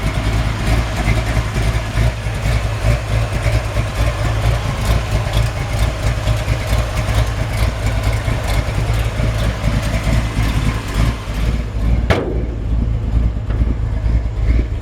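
A 1965 Ford F100 pickup truck engine idles steadily with a deep, continuous rumble, then cuts off abruptly near the end, leaving quiet.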